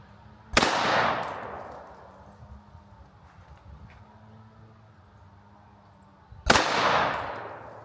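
Two sharp, loud pistol shots from a Sig P365 X Macro, spaced about six seconds apart, each with a ringing echo that trails off, and quiet outdoor background between them.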